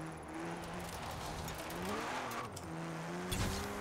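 A Porsche 914 in Forza Horizon 4, on standard race suspension, pulls hard with a rising engine note through several quick gear shifts and some tire noise, loud and close with no talking.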